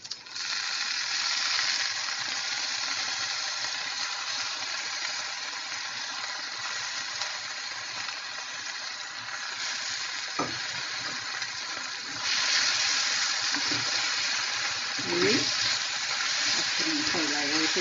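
Moong dal and chopped green chillies frying in a hot pan with leafy greens, a steady loud sizzle throughout, broken later by the scrape and clatter of stirring.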